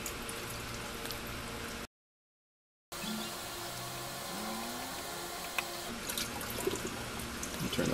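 Motor oil drips and trickles from the removed oil filter of a 2010 Mazda 5 during a DIY oil change. It is a steady, close liquid patter with a brief silent break.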